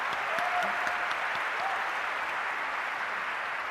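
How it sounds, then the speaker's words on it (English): Steady audience applause for an orchestra at a Nintendo E3 concert fills the whole stretch, dense and even, with a couple of faint voice traces early on. "let's give a big round of applause for our orchestra today"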